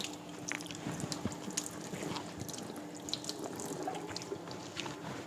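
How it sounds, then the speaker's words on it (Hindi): Running tap water splashed onto the face while washing, a continuous close wash of splashing and dripping with irregular wet slaps throughout, with no talking. "फेस को नॉर्मल पानी से पहले अच्छे से धो"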